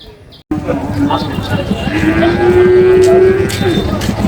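Cattle low repeatedly at a busy open-air cow and goat market in Kaliganj, Gazipur, with long sustained moos over a constant crowd murmur and background chatter.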